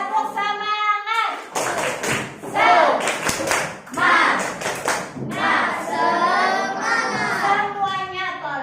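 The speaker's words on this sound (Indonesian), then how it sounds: "tepuk semangat." A classroom of Indonesian students performs the 'tepuk semangat' clapping routine during a Quran lesson. Rhythmic bursts of hand claps and taps sound up close and mix with children's chanting voices.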